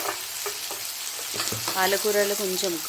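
Large-leaf fenugreek greens fry in a little oil, giving a dense, close sizzle with stirring scrapes, and a brief tonal whine rising near the end.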